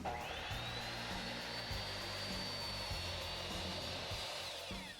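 A power saw cuts a pine board, a steady, loud whining drone that holds unbroken throughout with no voices.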